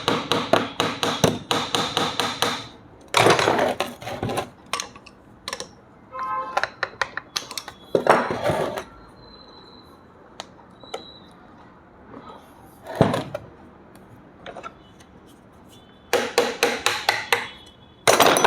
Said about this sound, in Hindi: फिर धीरे धीरे यहाँ पे हथौड़ी मारिए ताकि अंदर जो जंग लगा हुआ है वो ढीला हो जाए।